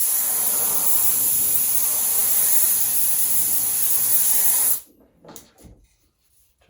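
A light coat sprayed onto an RC dragon canopy mold makes a steady, close aerosol hiss that runs for several seconds, then stops abruptly, leaving faint handling noises.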